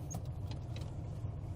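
Steady low rumble of a stock-spec restored car engine idling on a fresh tune, smooth and even at close range with a few faint metallic clinks over it.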